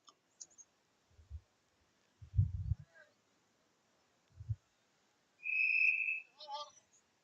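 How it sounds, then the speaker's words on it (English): A referee's whistle blows once, sharp and steady, at a junior varsity high school football game, preceded by scattered low thumps and followed by a brief warbling tone. "And we got a whistle."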